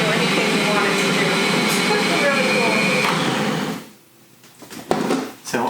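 A Bosch stand mixer beats butter on its own, a loud steady motor whir with mixing rattle for about four seconds before it stops, leaving a quieter room with a few knocks and handling sounds.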